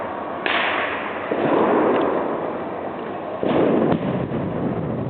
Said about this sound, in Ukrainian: вибух досить серйозний